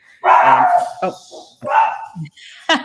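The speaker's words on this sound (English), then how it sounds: "You got to have the bark." A dog barks and yips several times in short, loud, close bursts separated by brief pauses.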